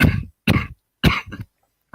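A person coughs in four harsh bursts about half a second apart, with a fifth starting at the end. The coughs are close and loud, with short silent gaps between them.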